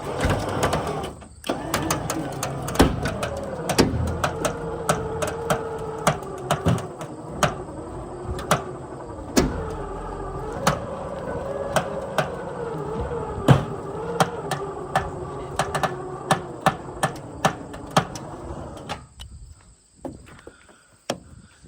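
A winch cable hauls a stuck vehicle with a weak motor and transmission mount, giving a steady strained mechanical drone punctuated by frequent sharp clicks and creaks, close and continuous until it stops near the end.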